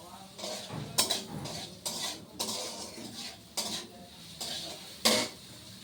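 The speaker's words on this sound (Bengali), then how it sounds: "একটু কড়াইতে পেঁয়াজ দিয়ে নিই" Onions fry in oil in a kadai while a metal spatula scrapes and clanks against the pan in regular strokes roughly once a second, over a soft steady sizzle.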